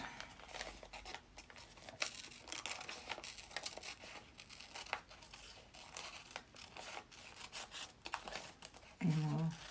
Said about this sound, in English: Now I will cut these out.